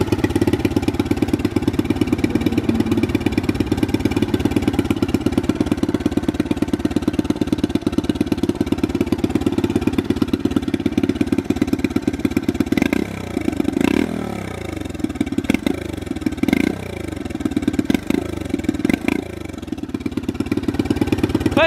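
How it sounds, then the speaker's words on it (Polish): A turbocharged Loncin motorcycle engine warms up on a cold day, idling steadily and close by with a constant mechanical drone, then a few sharper clattering blips and slight revs toward the end; no talking. "Jak słyszycie w tle, turbo Loncin się rozgrzewa."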